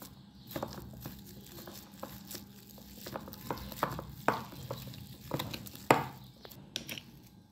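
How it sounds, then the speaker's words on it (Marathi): Shrikhand mixture whisked smooth with a whisk in a bowl, giving irregular soft scraping and tapping strokes, moderately close, with no talk. "खूप स्मूथ असं फेटून घ्यायचं आहे।"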